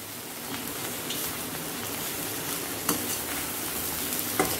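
Dried tuna fish stir-fry being mixed with coconut and lemon in a pan, a steady dense sizzle like light rain with occasional scraping stirs close by, and no talking.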